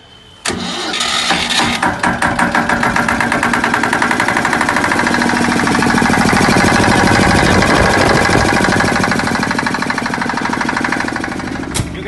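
A 12 kVA diesel generator set cranks over and fires up, settling into a loud, steady running drone that continues close by for the rest of the stretch.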